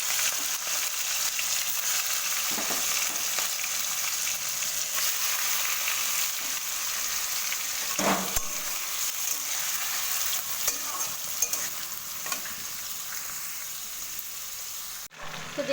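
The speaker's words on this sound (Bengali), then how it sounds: "এবার আমি এই হলুদ নুন মাখানো চিংড়ি মাছটা তেলের মধ্যে দিয়ে ভেজে নেব।" Turmeric and salt coated prawns frying in oil, an even, continuous close-up sizzle with a few louder spatters, ending in a sudden cutoff.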